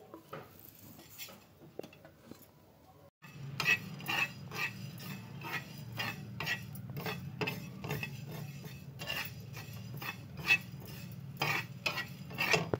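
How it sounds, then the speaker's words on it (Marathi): Coriander seeds and sesame seeds being dry roasted in a pan for spicy misal pav, a quiet start then steady rhythmic scraping and rattling of seeds stirred against the metal, close and clear, no talking. "आता आपण ही 1 चमचा धने आणि 1 चमचा तीळ भाजून घेऊ।"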